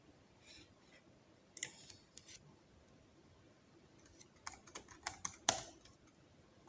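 A computer keyboard being typed on in short, scattered bursts of light clicking, some quick runs and isolated taps, close but soft over a faint room hiss, with no speech.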